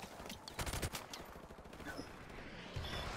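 Game gunfire in Call of Duty Modern Warfare Remastered on a cleared field: a steady run of fairly faint, muffled bursts and single shots with no speech.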